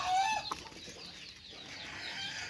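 A chicken clucks near rabbits feeding, with one short sharp call at the start followed by quieter scratchy farmyard sound, faint and close.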